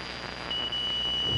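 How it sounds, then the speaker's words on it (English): A steady electronic smoke alarm tone sounds continuously over a faint background hiss, rising slightly in level midway, heard on a 1982 AM radio broadcast. "What was that all about? A smoke alarm."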